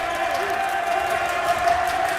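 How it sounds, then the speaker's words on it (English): A crowd at a men's college basketball game between Oregon Tech and Linfield keeps up a steady roar of cheering and shouting, with a faint sustained tone running through it. "Listen to the crowd, they're still in it."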